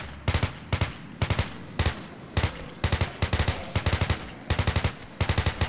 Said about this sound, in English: Not loving the gun sound right now.